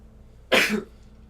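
A single sharp, breathy burst like a sneeze, brief and close, standing alone against a quiet background.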